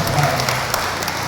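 Congregation applause at a church service, a dense steady wash of clapping filling the short moment at even loudness, with no voices standing out.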